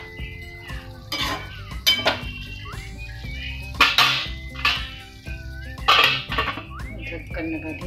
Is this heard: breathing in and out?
no